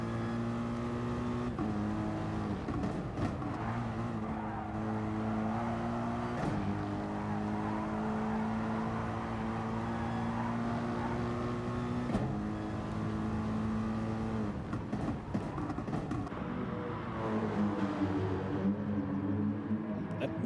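A Mercedes race car engine in a racing game at Circuit de Spa-Francorchamps drones and shifts pitch through gears, rising and dropping repeatedly, fairly close and continuous, with clicks and revving bursts.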